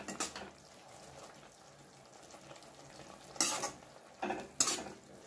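Okra frying in a pan for a tamarind gravy, with soft steady sizzle under several louder scrapes and clinks of stirring near the end.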